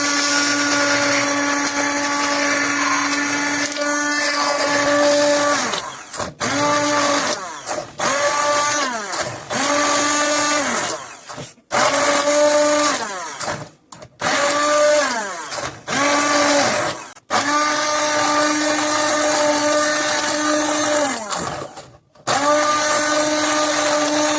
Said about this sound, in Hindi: अब हम इसको मशीन की मदद से ग्राइंड करेंगे और ये इससे बहुत अच्छा जो है इसका पेस्ट बन जाएगा